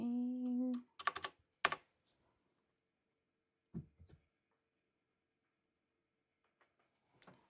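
A cat walks across a computer keyboard, setting off a few quick clusters of key clatter followed by sparse, quiet taps in an otherwise still room.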